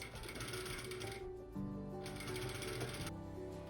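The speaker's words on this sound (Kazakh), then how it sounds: "енді машинкамен ішкі жағынан тігесіздер" A sewing machine stitching a chapan, a traditional Kazakh coat, runs in two close, loud bursts of rapid mechanical rattling separated by a brief pause.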